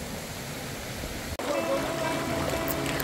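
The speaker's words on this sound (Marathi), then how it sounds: "ओढ्याच्या खळखळ वाहणाऱ्या पाण्यात खूप मज्जा केली." A stream babbles steadily over stones at an agro-tourism farm in Vasai Virar, near paddy fields. The wash of water is continuous and fairly close, broken only by a momentary dip partway through.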